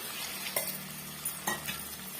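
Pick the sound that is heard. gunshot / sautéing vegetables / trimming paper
sautéing vegetables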